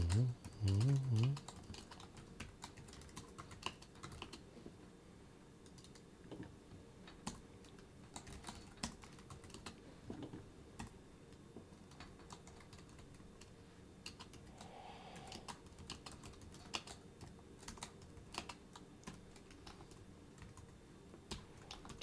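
Steady, quiet clicking of a computer keyboard during live C++ coding, rapid irregular keystrokes continuing throughout, with a brief hum from a voice at the start.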